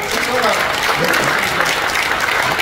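Loud, dense audience applause at a Senior Citizens' Day ceremony in a chamber of commerce hall, a steady continuous wash of clapping from a large crowd throughout.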